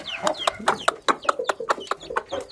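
Clucks and chirps from a young chick, a cross of a Malatya hen and an Arap rooster, repeat in quick, near bursts of several calls.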